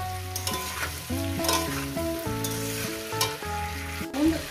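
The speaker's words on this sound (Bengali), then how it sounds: "বন্ধুরা একটু পাচ্ছেন আমি ফুলকপি আর আলুটাকে কীভাবে ভেজে নিচ্ছি" Cauliflower and potato pieces frying in a pan give a close, continuous sizzle, mixed with tonal background music and no talking.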